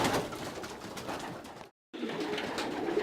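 Young racing pigeons cooing in a loft, soft repeated low coos layered over a busy background, close by, with a brief dropout midway and no speech.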